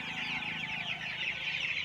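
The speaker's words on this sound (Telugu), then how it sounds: "నాటు గిరిరాజా కోళ్ళు" Native Giriraja chickens cluck and chatter continuously at close range, several birds overlapping in a steady busy stream with no speech.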